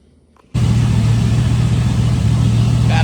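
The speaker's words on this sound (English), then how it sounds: "I just sit right here and let this little motor idle." A 1951 International truck engine starts suddenly after a short quiet, then idles loud and close with a steady, even rumble.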